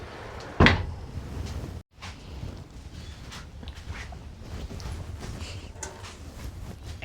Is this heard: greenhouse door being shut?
yes